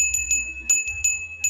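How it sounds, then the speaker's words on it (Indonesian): A school bell signals break time with a quick series of bright, clear metallic rings, repeated strikes close together, loud and near, with no voices. "Waktu pun menunjukkan pukul 9 pagi, bel berbunyi."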